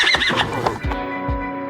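A horse whinnies loudly and close at the start, a shaky high neigh followed by a couple of heavy hoof thuds and snorts, with no voices.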